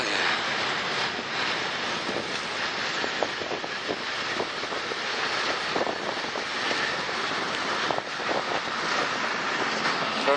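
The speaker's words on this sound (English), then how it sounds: "That's a German train." A long German train rolling past close by on the rails, a steady loud roar with rhythmic clattering from the wheels and cars that holds for the whole stretch without letup.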